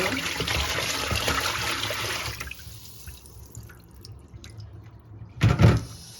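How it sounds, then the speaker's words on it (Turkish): Yellow brine from cracked olives being drained off during sweetening: a steady, close trickle and pour of liquid for a couple of seconds, fading to faint drips, then a brief louder splash near the end. "Şimdi çıkan sarı suyu boşaltıyorum."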